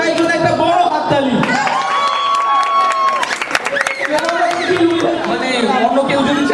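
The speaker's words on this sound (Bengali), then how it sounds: "একটা বড় হাততালি" An indoor gift-box game audience breaks into clapping and cheers for a winner, scattered applause mixed with lively crowd chatter and people talking over it.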